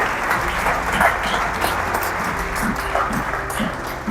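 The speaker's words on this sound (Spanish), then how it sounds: "denle el mejor de los aplausos" Church congregation clapping for the Lord during a sermon, a sustained wash of applause from a crowd, even and continuous with faint voices underneath.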